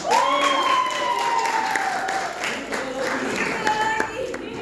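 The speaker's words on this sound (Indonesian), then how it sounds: "Tepuk tangan untuk teologi ya." Crowd clapping and cheering at a gathering, mixed with shouting voices and a rising, whistle-like call near the start, the applause fairly steady and moderately loud throughout.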